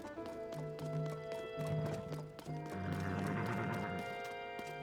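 Horse hooves clip-clop in Zelda: Tears of the Kingdom, Switch 2 Edition, a steady run of light, close hoof taps over soft sustained game music, with no one talking.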